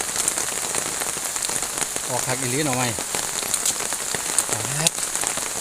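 Steady rain falls on a morning at Phu Wiang, a dense, even hiss that runs throughout while someone talks over it now and then.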